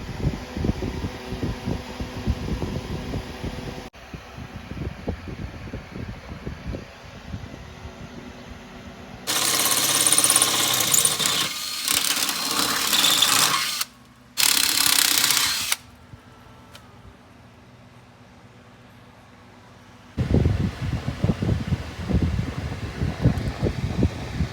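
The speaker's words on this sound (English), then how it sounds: "next I need to drill my holes through here and right there as well" Power drill boring holes through steel frame mounts for a Jeep Commander rear bumper, with a loud sustained grinding whine in two bursts, a brief pause between them, and quieter workshop handling noise before and after.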